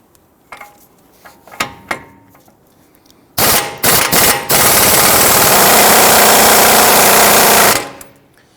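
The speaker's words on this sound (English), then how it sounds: "We're going to use our impact gun and a 22mm socket." An impact gun with a 22mm socket loosens the outboard tie rod nut on a 2010-2019 Ford Taurus: a few short taps, then loud rattling bursts and a long sustained hammering run that stops abruptly.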